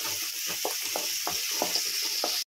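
Red, yellow and green capsicum sizzles with onions in a hot pan, a bright steady frying hiss with rhythmic scraping stir strokes every few tenths of a second, close and loud, ending abruptly.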